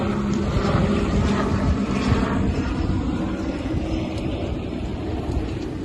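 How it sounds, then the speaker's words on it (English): A firefighting crew helicopter's loud, steady engine and rotor roar fills the scene, sustained and fairly close throughout. "That is our fire crew helicopter right there."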